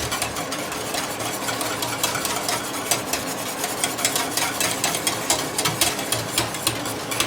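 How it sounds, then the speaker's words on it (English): Custard whisked vigorously in a pan on the heat, a fast, steady rhythmic scraping and tapping of the whisk against the pan, continuous and close, with no talking. "keep whisking the hell out of it, back on the heat"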